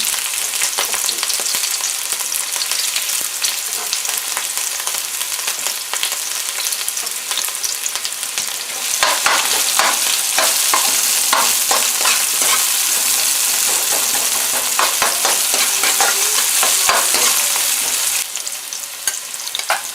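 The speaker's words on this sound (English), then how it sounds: "So we've added some oil into our pan. Now the onions there." Onions frying in oil in a pan for a peacock bass fish curry, a loud continuous close sizzle that grows busier and crackly midway with dense stirring clatter, then eases near the end, no talking.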